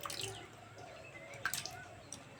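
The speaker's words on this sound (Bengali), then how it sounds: "দেখতে পাচ্ছ কত জল বার হচ্ছে" Water drips and trickles as salted shredded cabbage is squeezed by hand in a kitchen, soft close splashes and squishy sounds at a low level.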